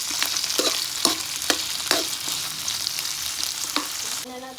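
Leftover roast pork (lechon) fries with garlic and onion in a hot pan, sizzling loudly up close, with repeated spatula scrapes and stirs over the constant crackle.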